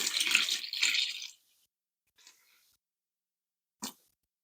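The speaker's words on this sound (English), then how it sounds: "And we're going to pour that in slowly." Water is poured slowly into a large sourdough dough batch, a short splashing pour lasting about a second before it stops, followed by faint small sounds and silence.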